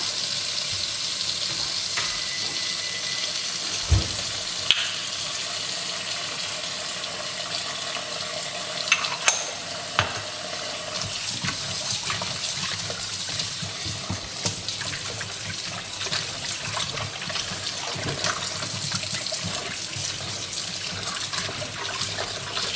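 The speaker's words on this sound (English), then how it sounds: "So I'm going to fill this with water." Tap water runs steadily into a container for soaking freshly harvested vegetables, a continuous hissing splash with a few knocks and clatters over about twenty seconds and no talking.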